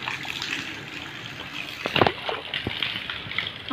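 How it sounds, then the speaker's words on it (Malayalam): Water poured out and gushing across the ground outdoors, a steady sloshing flow with a brief louder splash in the middle, heard with no talk. "ആ വെള്ളം ഇങ്ങടെ പോണു."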